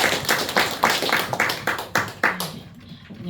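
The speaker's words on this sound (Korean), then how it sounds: "큰 박수 한번 부탁드리겠습니다." Clapping from a small group in a morning live broadcast studio, a few loud uneven claps with distinct sharp hits for about two and a half seconds before it stops.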